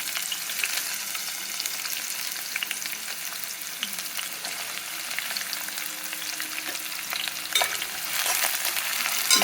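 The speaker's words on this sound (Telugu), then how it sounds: "ఉల్లిపాయలు ఎర్రగా వేగాలండి." Onions fry in oil for malai kofta curry, a steady, fairly loud sizzle and crackle with occasional stirring scrapes and no talk.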